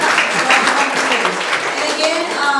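An audience at a monthly organization meeting claps briefly, a busy patter of hands with some voices mixed in over the short burst.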